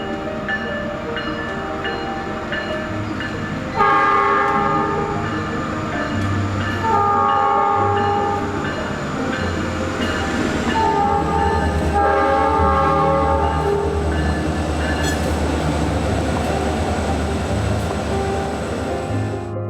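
A model train runs on a home layout, its horn sounding in repeated tonal blasts over a continuous rolling rumble, fairly close and clear.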